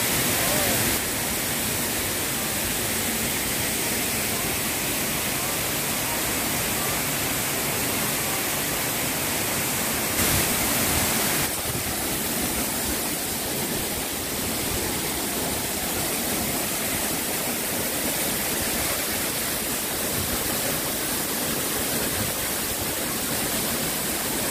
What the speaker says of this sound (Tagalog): Grabe guys, ang ganda ng falls.